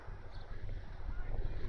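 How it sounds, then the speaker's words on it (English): Gusty wind buffets a campervan roof fitted with solar panels, a steady low rumble and roar that swells louder toward the end, with no other sounds standing out. "it's a bit windy, so you might be able to hear a bit of wind."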